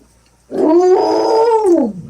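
A dog lets out a loud, close howl lasting over a second, rising and then falling away with a rough, growly edge, heard alone with no one talking.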